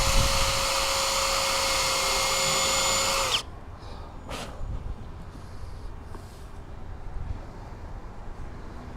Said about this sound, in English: I still find it better to pre-drill